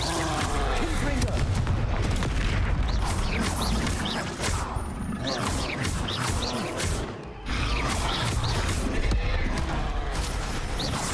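Confringo blasting spell explosions in Hogwarts Legacy, dense booming blasts and crackling impacts layered continuously with game combat noise and a voice talking over it.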